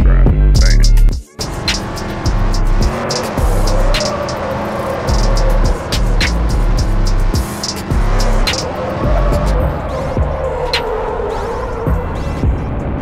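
Car engine droning steadily in a homemade racing video game, a loud continuous motor hum with shifting revs, accompanied by rapid clicking and percussive beats throughout.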